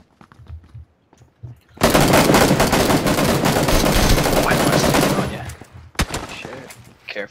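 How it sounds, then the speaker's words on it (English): Sniper fire in PlayerUnknown's Battlegrounds: a dense, loud burst of rapid gunfire lasting several seconds, followed by a couple of sharp single shots, with faint sounds before it. "Sniper bullet from across the road. Just went through that window in front of you."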